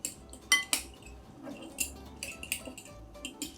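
Garlic cloves and olive oil stirred with a spoon in a bowl for ratatouille, heard as soft scraping and irregular clinks of metal against the dish, fairly close and quiet.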